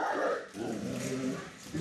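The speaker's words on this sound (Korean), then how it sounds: "갑자기 짖기 시작하는 오브차카 남매" Ovcharka dogs bark in short, agitated bursts at moderate distance, a couple of overlapping yaps with brief pauses, heard without people speaking.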